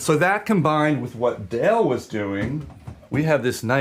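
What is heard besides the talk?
No everyday noises stand out.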